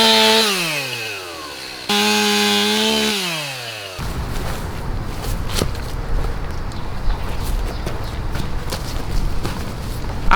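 A chainsaw revs and bogs as it cuts through a fallen tree, loud and close, with engine pitch sweeping down and up twice, then a rough, noisy cutting roar for the rest.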